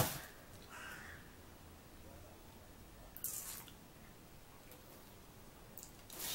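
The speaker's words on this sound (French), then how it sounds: "Il est super relou le corbeau là" A crow caws outside an open window, a few harsh calls at moderate distance, with the loudest burst near the middle and another toward the end, over a quiet room background.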